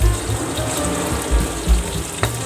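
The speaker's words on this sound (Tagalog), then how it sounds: "Bawang, hanggang mag golden brown din." Garlic frying in oil in a pan for pinakbet, a steady close sizzle with soft bubbling pops and a few sharper crackles, without talk.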